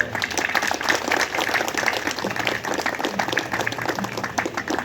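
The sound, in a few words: applause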